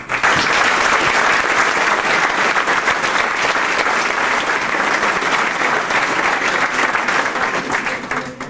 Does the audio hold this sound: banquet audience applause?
yes